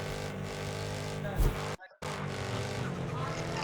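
A car engine roars in the mobile racing game Car Parking Multiplayer as a race starts. The revving is steady with a brief surge, then a short dropout, and someone talks over it.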